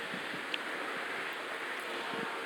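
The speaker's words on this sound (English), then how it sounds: "I know it's getting a little windy out here" Wind blows outdoors in a steady, soft, rushing hiss across the microphone, fairly faint and constant, with no one talking.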